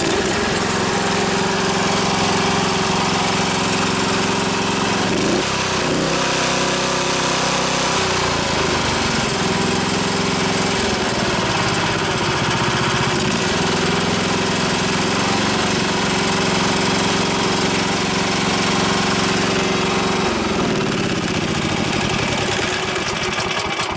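A homemade band sawmill's motor drones loudly and continuously at about quarter throttle, its pitch shifting slightly as it runs, with no voices.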